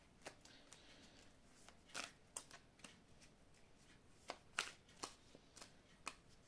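A tarot deck being cut and shuffled produces crisp, quick riffling snaps and soft card slaps in irregular bursts, close and quiet, with no talking.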